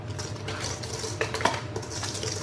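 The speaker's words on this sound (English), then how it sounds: "now we're going to blend this all in really well" Cookie dough for cranberry walnut oatmeal cookies being blended in a bowl, with utensil scraping and clinking against the bowl in a steady stir, one or two sharper knocks in the middle, close and moderately loud.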